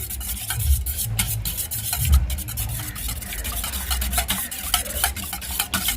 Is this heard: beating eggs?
yes